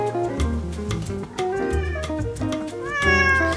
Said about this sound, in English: that is my cat howling in the background